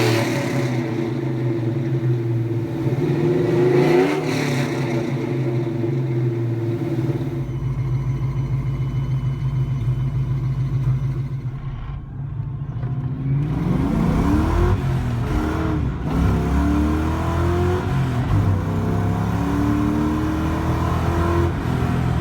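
A 2003 Ford Mustang Mach 1 in Azure Blue runs with a loud, steady engine drone, shifting through several rising and falling revs and a brief dip midway.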